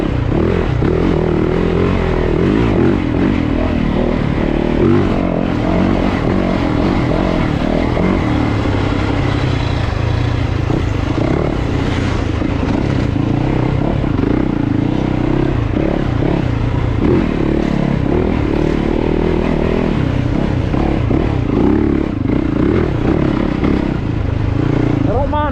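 A 2021 Yamaha YZ450FX dirt bike engine drones steadily and loudly while riding at Crow Canyon, a continuous buzzing roar with slight rises and falls in revs throughout.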